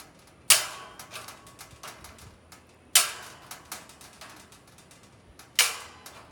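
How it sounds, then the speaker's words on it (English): Bolt cutters snap through trellis material in three sharp, loud metallic cracks a few seconds apart, each followed by small clicks and rattles of the cut pieces, with no talking. "Bolt cutters"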